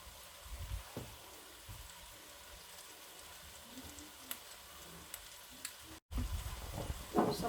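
Vegetables frying gently in a pan on low heat for rice noodles give a quiet, steady sizzle with a few soft clinks of stirring, then louder stirring and frying noise near the end.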